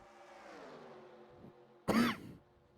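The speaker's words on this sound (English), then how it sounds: "Excuse me on that cough." A single loud, rough cough bursts out near the end, following a stretch of steady low background rumble.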